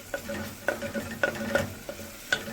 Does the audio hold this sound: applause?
no